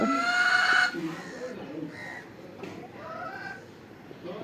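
A hen that has just laid an egg clucks and cackles in a rooftop stairwell area, short raised calls near the microphone with faint background noise.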